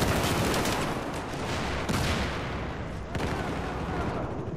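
AK rifle gunfire in Battlefield 4 during a Rush match, rendered as loud, dense sustained bursts of shots with a couple of abrupt breaks, with possible faint talk mixed in.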